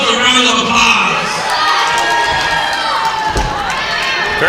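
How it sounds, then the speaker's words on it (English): A wrestling show crowd cheers and shouts loudly and continuously, with dense crowd noise and voices rising throughout. "go ahead and give yourselves a round of applause"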